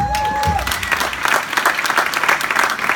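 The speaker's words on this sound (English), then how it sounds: "give him a round of applause, please" Audience applause at a live crypto currency education event in Miami, a dense steady clapping that fills the room for the full three seconds, with a brief tone fading out early on.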